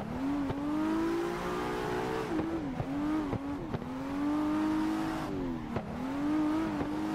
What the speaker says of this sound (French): On va se faire quelques petits tours tranquillement, histoire de s'échauffer un petit peu et de s'entraîner en drift en même temps